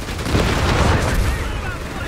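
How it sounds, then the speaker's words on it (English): Dense, rumbling explosions and gunfire from a mortar barrage falling on an MG42 machine gun position in the real-time strategy game Company of Heroes 3, loud and continuous throughout. "Mortar Barrage coming in on the MG42."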